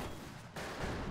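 Gunfire in the Western multiplayer video game Fistful of Frags: a dense, loud burst of shots and impacts across the whole moment, with a sharp fresh volley midway.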